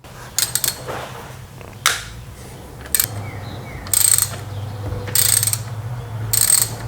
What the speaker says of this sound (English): You just need a 3/8 inch square extension to fit down in there to loosen it up.